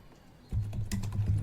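Fingers type on a computer keyboard up close, a quick run of soft clicking keystrokes that starts after a brief quiet moment.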